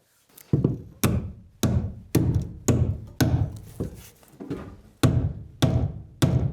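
Heavy chopping thuds of an axe biting into wood, about ten evenly spaced strikes, each sharp and close with a short ringing decay.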